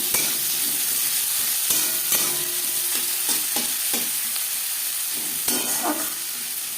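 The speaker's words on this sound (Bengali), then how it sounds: "5 ফোড়ন ভেজে নেওয়ার পর দিয়ে দেবো পেঁয়াজ কুচি।" Chopped onion frying in oil with panch phoron in a kadai, a steady loud sizzle running throughout with scattered spatula scrapes and clicks near the end.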